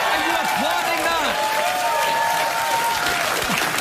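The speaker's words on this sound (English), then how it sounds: "Why are you applauding that?" A studio audience claps steadily throughout, a dense wash of applause with some voices rising through it, on a late-night talk show.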